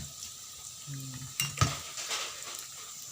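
Fishballs fry in hot oil, giving a steady sizzle, with a utensil stirring them and a few clinks of metal against the pan.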